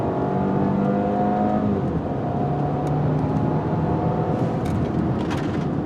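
A car accelerates hard, with a loud, close engine rising and climbing through the gears in a sustained roar, heard alone.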